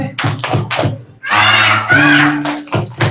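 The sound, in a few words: children clapping the Tepuk anak soleh chant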